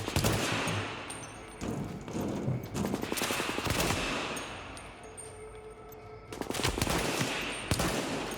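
Rapid bursts of enemy gunfire in a shooter video game, dense automatic volleys crackling almost continuously with brief lulls, loud and close in the mix.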